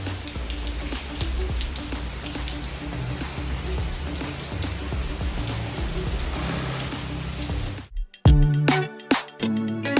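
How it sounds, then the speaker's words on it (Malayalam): Rain falling steadily outdoors with a dense, even hiss of drops, cut short near the end by a few louder knocks and clatters. "മഴ സ്റ്റാർട്ട് ചെയ്തിട്ടുണ്ട്"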